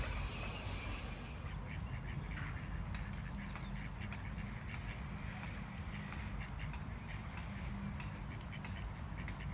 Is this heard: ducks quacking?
yes